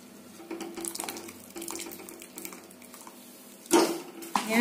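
Iced water is poured over blanched spinach for palak paneer, giving a soft running trickle with light clinks of a container, then two louder splashing pours near the end.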